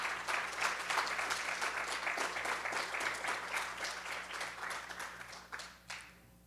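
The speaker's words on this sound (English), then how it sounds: "So I want to say one final round of applause for everyone." A conference audience at a closing session claps together in a dense, sustained round of applause that thins out and ends with a few last claps.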